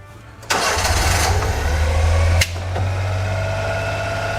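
A 1996 Honda kei van engine, fresh from a timing belt replacement and on a jump box, cranks and catches, then settles into a steady idle with a brief sharp click partway through; close and fairly loud, no talking.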